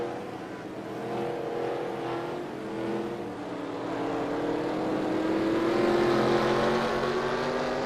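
Race cars run on a roval during the 2022 CCS Binford Tools 500, a continuous engine drone with rising and falling pitch that swells louder toward the end, with no talk over it.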